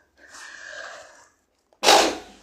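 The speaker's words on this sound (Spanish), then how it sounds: "Voy a estornudar un segundo." A single sharp, loud sneeze bursts out close by after a brief quieter breath and pause, with no talk over it.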